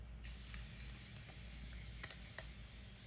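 A C Makeup setting spray that doubles as a primer is misted onto a face, giving a soft, steady hiss that starts abruptly and continues, with a couple of faint clicks near the end.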